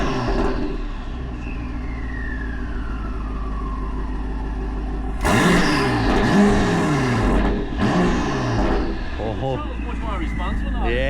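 A BMW X5M engine idles with a loud low rumble, then revs in a few sharp blips that rise and fall. Voices talk over the engine.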